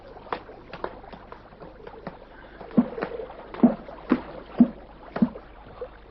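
A small rowing boat moves on water, with oar strokes splashing in a regular rhythm of about five pulls, near and clear over a soft watery background, with no speech.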